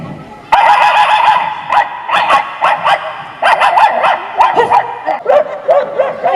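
A voice repeatedly imitates a dog's barking, a quick series of loud, close yips and woofs with short gaps between them.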